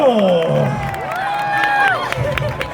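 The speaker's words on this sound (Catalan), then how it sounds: "un fort aplaudiment per la bruixa del carbó" A crowd at a Christmas lights-switching-on event cheers and applauds the coal witch, with children's shouts and high sliding voices over a steady wash of clapping and crowd noise.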